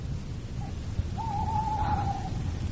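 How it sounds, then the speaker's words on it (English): A single owl gives a thin, drawn-out shriek, preceded by a brief short call, over a low murmuring background in a dramatized night scene, faint and mid-distance. "It was the owl that shrieked, the fatal little bellman which gives the sternest good night."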